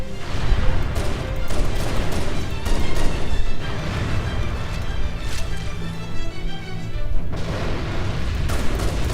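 Explosions at the finale of the video game Halo CE, a dense run of heavy booms and blasts rolling on without pause, loud and close, with music or rumble underneath and no talk.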